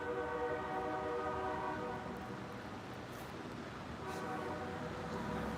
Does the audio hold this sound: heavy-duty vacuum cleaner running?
no